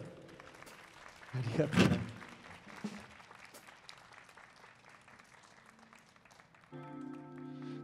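A live concert audience at an Earth Day Tokyo festival claps along with the band, the clapping building to a loud burst before fading under a spoken thank-you and then giving way to music.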